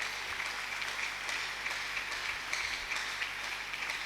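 A church congregation applauds and cheers for Jesus during a deliverance marathon service, with steady, dense clapping held at an even level throughout.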